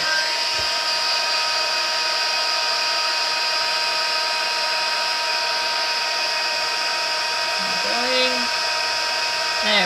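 A heat embossing tool blows hot air in a steady, high-pitched whine with a continuous rushing hiss. It runs close and unbroken through the whole clip. A short voice sound briefly rises over it near the end.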